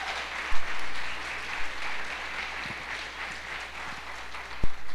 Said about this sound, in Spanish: ¿Alguien puede darle un aplauso a Dios?